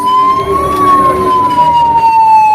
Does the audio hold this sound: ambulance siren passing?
yes